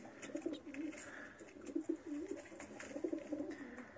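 Pigeons coo in a pigeon loft, soft repeated rolling calls overlapping one another at close range, with no talking.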